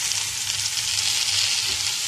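Egyptian rice sautéing in a pan, a steady close sizzle with light stirring scrapes and no talking.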